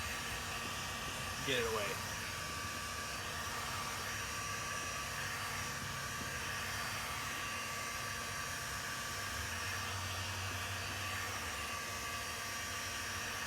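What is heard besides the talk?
heat gun warming a vinyl decal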